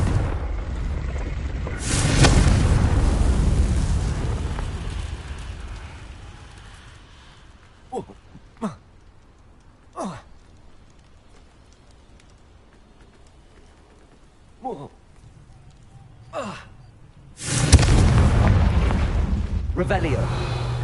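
Two loud, booming bursts of the Confringo spell from Hogwarts Legacy erupt near the start and end, each a sustained broadband blast, with a few sharp crackles and faint game sounds scattered between.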